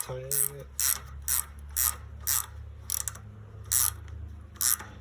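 A ratchet wrench with a 3/4 inch socket repeatedly clicks while tightening a fuel line fitting on a 1995 Chevy Tahoe during an LS swap; about eight evenly spaced bursts of ratcheting over a low steady hum.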